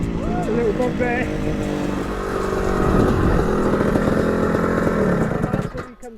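EMX 400 two-stroke dirt bike engine revving, then stumbling and bogging as it pulls, a buzzing, uneven drone with wavering pitch, loud and near, fading near the end, with voices over it.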